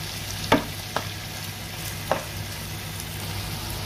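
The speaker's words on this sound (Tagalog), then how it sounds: "Haluin para ma-mix ng maayos." Onions frying in a pan for chicken sambal, a soft continuous sizzle broken by a few sharp scrapes and knocks as they are stirred, fairly quiet and close.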